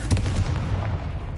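A Confringo blasting spell explodes in the Hogwarts Legacy video game, a short, loud, booming burst that stays dense and rumbling throughout.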